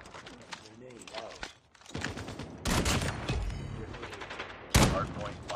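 Gunfire from a first-person shooter video game: a few sharp, loud shots crack out between stretches of someone talking.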